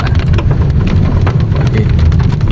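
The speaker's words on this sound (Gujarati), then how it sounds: "વરસાદ મિત્રો ફૂલ પડે છે" Heavy rain pours steadily over a dense green forest, a continuous close hiss of drops with a low rumbling undertone throughout, no voices.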